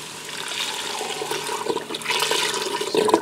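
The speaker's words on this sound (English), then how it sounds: "Now I'm going to add in 4 cups of beef broth." Four cups of beef broth pour into a Ninja Foodi pressure cooker, a close, gurgling liquid splash that grows heavier and louder over about three seconds.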